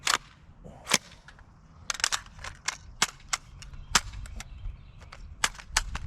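Rifle fire from an IWI Tavor X95 shooting Hornady ammunition at a distant steel plate outdoors: a quick irregular string of about twenty sharp cracking shots, some pairs close together, loud and with no talk.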